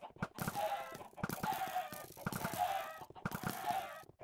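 Blocky Minecraft chickens cluck repeatedly in four short bursts with brief pauses between, close and clear in a game animal-cooker build.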